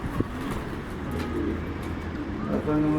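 Domestic pigeons coo repeatedly in a loft in Adana, with soft low calls close by over a steady background murmur and a few faint voices.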